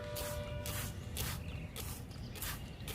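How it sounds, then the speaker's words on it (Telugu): Liquid fertilizer is sprayed onto flowering jasmine plants in a garden: repeated hissing spray bursts come at a steady rhythm, close and fairly loud, with no talking. "మిల్లికి స్ప్రే చేస్తున్నా"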